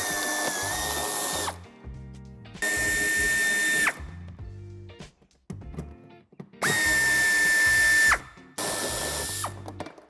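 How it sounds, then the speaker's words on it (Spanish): A power tool or ratchet on a size 10 screw at the corner of a 2019 Opel Vivaro C bumper gives loud, close, sustained whirring runs of a couple of seconds each, separated by short clicks and handling noises. "Aquí tenemos el tornillo que tenemos que quitar."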